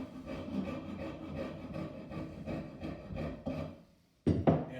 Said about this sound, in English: use the finer file to start blending them all in